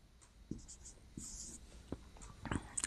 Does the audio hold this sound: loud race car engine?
no